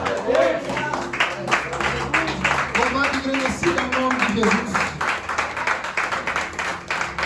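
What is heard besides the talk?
congregation clapping during church worship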